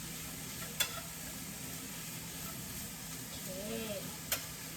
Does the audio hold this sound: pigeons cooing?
no